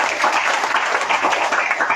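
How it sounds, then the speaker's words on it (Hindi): An audience applauds at a Krishna Janmashtami gathering of a Ramayan mandali, thanking donors with steady, dense clapping that fills the room for the whole stretch without a break. "क्यों ना उनको हम तालियों से धन्यवाद दें।"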